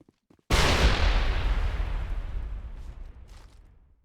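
A grenade in the game Mass Effect goes off in one loud, close blast that rumbles and slowly fades over several seconds, with faint voices before and after.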